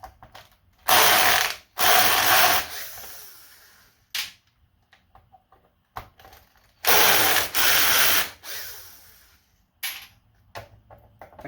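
A power impact driver hammers at tight factory screws in an Xbox Series S, firing off repeated loud rattling ratchet bursts, each about a second long, separated by quiet pauses and a few short clicks.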